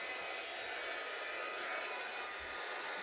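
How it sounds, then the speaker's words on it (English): A craft heat tool blowing hot air to set and dry stamp spray colors on a background: a steady, even whooshing roar held for the whole stretch, close and constant, with no voice. "I'm just going to give that a little dry with the heat tool."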